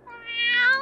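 A black cat gives one close, clear meow that rises in pitch and swells louder before cutting off, alone with no voices around it.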